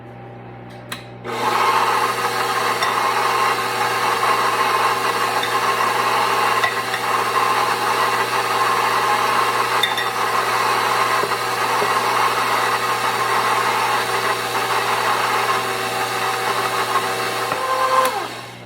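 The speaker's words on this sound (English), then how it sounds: "And turn the mixer back on, and then I'm going to slowly add the rest of the flour a cup at a time." An electric stand mixer runs steadily while kneading bread dough for dinner rolls, a constant mechanical whir and hum that holds close and loud, without talk, for the whole stretch before cutting off at the end.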